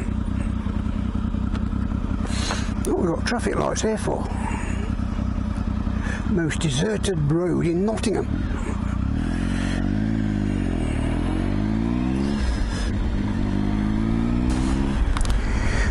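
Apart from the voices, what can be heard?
Triumph Tiger 955i motorcycle riding on the road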